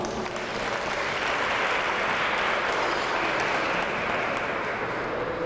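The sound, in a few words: audience applause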